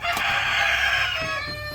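Barred Rock hens cluck and cackle close by in a short, busy burst of overlapping calls.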